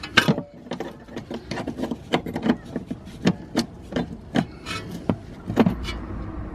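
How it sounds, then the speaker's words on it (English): An 11mm spanner works a brake line nut loose on a BMW E60, producing close, repeated metallic clicks and scrapes in an uneven rhythm, with faint handling noise between strokes. "all you have to do is get the spanner on that nut and then"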